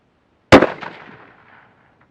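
A single loud shot from a Mossberg 800B rifle at an outdoor range, a sharp close blast that decays over about a second into a rolling echo, with no talking.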